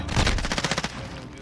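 Rapid automatic gunfire from a first-person shooter video game, Call of Duty style search and destroy mode, a burst of about a dozen quick close shots over a second, then fading.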